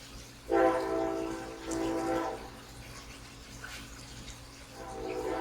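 A passing train sounds its horn in long, sustained blasts, fairly near and loud at first and then fading, with rumbling rail noise beneath and no talk.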